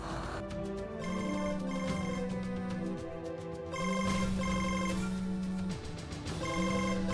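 A mobile phone rings with a melodic ringtone, a repeating pattern of tones that plays continuously and fairly loud, with no talk over it.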